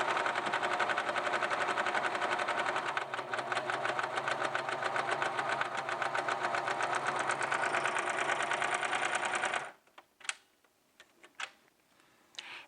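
A serger fitted with a gathering foot runs continuously for about ten seconds, a fast, even mechanical whir and ticking, then stops, leaving a few faint clicks and handling sounds.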